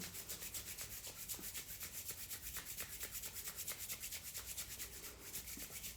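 Hands rub together vigorously and fast during a breathing exercise, a continuous rhythmic swishing friction close to the microphone, about four strokes per second, steady and alone without speech.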